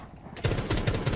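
Rapid pistol shots in the video game Rainbow Six Siege, a quick run of about six close, loud cracks fired in fast succession after a brief quiet start.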